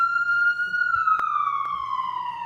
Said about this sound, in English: Promise that's an ambulance and not a police car.